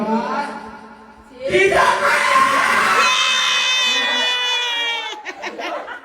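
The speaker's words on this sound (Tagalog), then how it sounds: "Puro sigaw ginagawa ni Riwel." Loud, sustained high-pitched shouting from several children at once at a Christmas party, rising suddenly after a brief moment of quieter talk.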